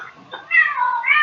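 A domestic cat gives a drawn-out, rising and falling meow, heard up close in a quiet indoor room, preceded by a softer short mew.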